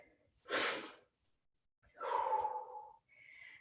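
Heavy breathing after a hard workout: a forceful, airy exhale, then a longer drawn breath with a sighing, voiced edge, close and fairly quiet, with a brief faint sound at the end.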